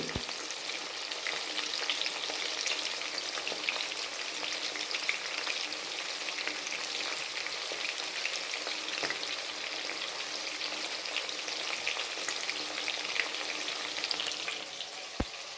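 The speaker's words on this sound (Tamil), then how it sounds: "பாருங்கள் நல்லா சிக்கன் ஃப்ரை ஆகிட்டு" Chicken frying in a pan, a loud, even, continuous sizzle and crackle of hot oil with no talking, holding steady throughout with one faint tap near the end.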